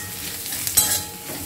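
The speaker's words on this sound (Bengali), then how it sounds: "ভালো করে মশলাটাকে কষে নিতে হবে" Spice paste with green chili and chili powder fries over a low flame, giving a steady close sizzle with a brief stir and scrape partway through.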